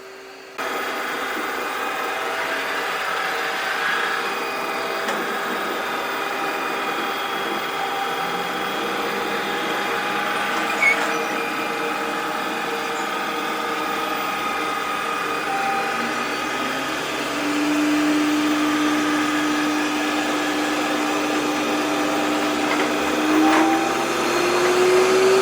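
An Ecovacs Deebot T30 Pro Omni robot vacuum running through its suction power levels, a steady close whirring drone that shifts upward in pitch as the level steps up, with no talking.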